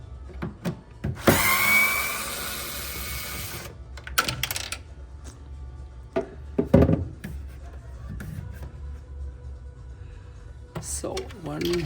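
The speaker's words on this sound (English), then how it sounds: "So unscrewing the low panel, 4 screws." Screws being unscrewed from the lower panel of a Liebherr refrigerator, a scattering of short clicks, scrapes and a burst of power-driver whir, with someone speaking between the sounds.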